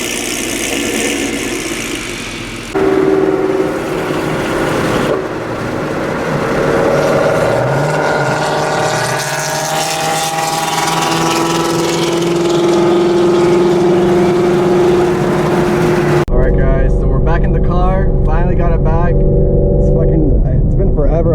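A Ford Mustang drives with its engine running steadily and shifting through gears, a loud continuous rumble that rises in pitch between shifts, with voices talking over it.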